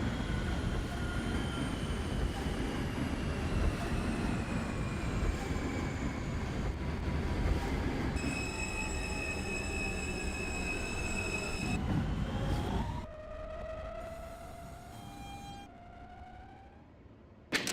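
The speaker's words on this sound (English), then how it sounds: "This is a Coney Island, Stillwell Avenue bound F train" An R160 subway train on the F line toward Coney Island–Stillwell Avenue, simulated in OpenBVE, rumbles along loudly and steadily with whining motor tones rising and falling, then quiets as it slows, squealing wheels fading at the end.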